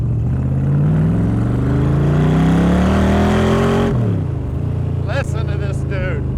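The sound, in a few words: Kirkham aluminum-body Cobra engine revving around a corner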